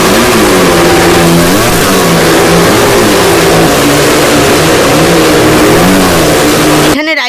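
Motorcycle stunt riders in a well-of-death ride at an evening fair, engines revving loudly and continuously with rising and falling pitch as they circle, very close and overwhelming, cutting off abruptly at the end.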